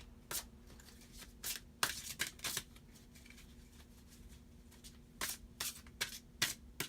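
Tarot cards are shuffled close by in quick, irregular riffles and bursts of soft slapping, spread across the stretch with short pauses between them in a quiet room.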